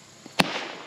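A 3D-printed model rocket's ejection charge goes off with a single sharp, firecracker-like pop at a distance, followed by a brief hissy tail under outdoor ambience.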